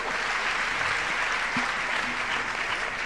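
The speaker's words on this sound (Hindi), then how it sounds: "एक बार जोरदार तालियां बजा दें" Audience applause at a Jain religious discourse with Sudha Sagar Ji Maharaj: dense, loud clapping from a crowd, steady and sustained from start to finish.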